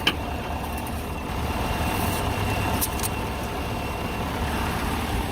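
A 2014 GMC Sierra 1500 Denali 4WD engine idles steadily, a low, even hum heard close from the engine bay, with a brief tap at the start and a few faint clicks.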